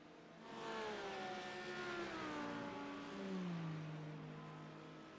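A Cadillac GTP race car with a V8 engine in iRacing at Monza holds a smooth, droning engine note that climbs and then drops in pitch as it shifts, steady and moderately loud, with no speech.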